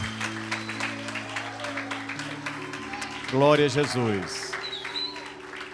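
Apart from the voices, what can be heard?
congregation applauding in church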